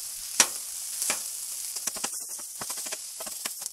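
Fried rice pressed into a flat cake on a hot griddle, sizzling with a steady close hiss broken by sharp spatula scrapes and taps.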